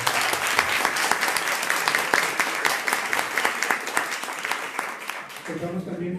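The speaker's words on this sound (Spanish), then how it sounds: "Demos un fuerte aplauso a nuestra compañera." An audience at a book presentation claps steadily for several seconds, a dense wash of applause that fades as a voice begins speaking at the end.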